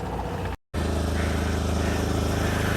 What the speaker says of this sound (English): So as you can hear, the exhaust is still blowing